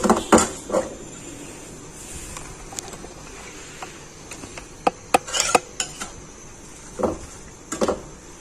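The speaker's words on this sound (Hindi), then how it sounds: "अब हम इसको आग पे कुछ देर के लिए भूनते हैं।" Chicken karahi roasted over a flame while stirred, a metal spoon clinking and scraping against the pan in scattered bursts over a low background hiss, close and alone.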